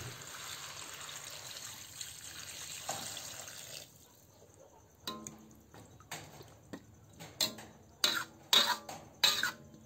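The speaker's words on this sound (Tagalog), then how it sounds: "Lagyan na natin ito ng tubig." Water is poured into a cooking pot for chicken tinola, a soft trickling stream at first, then a run of sharper splashes and clinks near the end.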